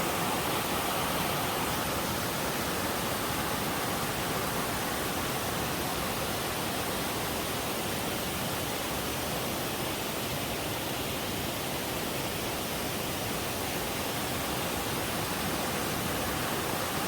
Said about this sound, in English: you hear the water going over the falls all night long